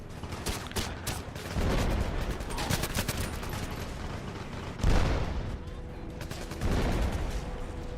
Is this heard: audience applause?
no